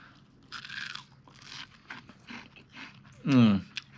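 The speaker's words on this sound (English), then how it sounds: "So what you do is you just nibble off the fried part from the stems, kind of like this." Someone nibbles crunchy deep-fried elderberry flowers off their stems, giving soft crisp bites and chewing up close, with a brief voiced murmur near the end.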